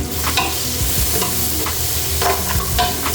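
Curry masala and tomato frying in a pan while being stirred, a steady close sizzle with repeated scraping strokes of the spoon across the pan, loud and continuous with no voices.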